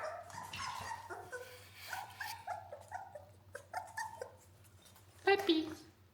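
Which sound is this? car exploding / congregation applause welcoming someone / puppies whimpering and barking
puppies whimpering and barking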